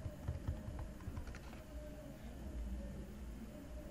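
Typing a search on a computer keyboard, with a short burst of quick, faint key clicks that fade into quiet room hum.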